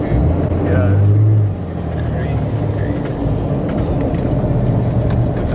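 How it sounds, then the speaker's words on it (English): Armoured, bulletproof Dodge Ram 2500 truck engine with its turbo, a loud, steady, close rumble that dips slightly partway through, with voices under it. "What gets me is the turbo sound."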